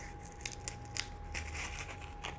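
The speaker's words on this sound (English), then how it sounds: "that's tape coming off" Sticky tape being peeled off craft paper in a few short crackling strips, close up and fairly quiet, with no voices.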